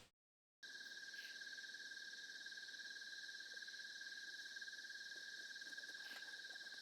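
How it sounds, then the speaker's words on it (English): Night insects in a late-summer field recording: a steady, dense chorus of high continuous trilling with layered buzzing tones, unbroken after a brief silent start. "there should be some decent kind of night insects here"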